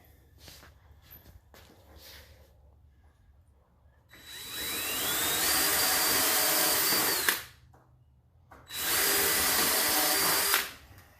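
Power drill driving screws into a birch countertop frame, two sustained high-pitched whirring runs of about three and six seconds, close and loud, with quieter handling knocks before them.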